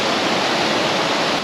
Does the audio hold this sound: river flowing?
yes